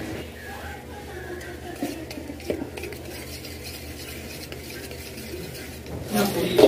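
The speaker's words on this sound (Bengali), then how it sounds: "এই যে পাউডার সুগারটাকে এগের সাথে অ্যাড করে উইস্ক করে নেবো।" A whisk scrapes and clinks steadily in a bowl as eggs are beaten with powdered sugar for a cake, a soft, continuous rasp with occasional louder taps.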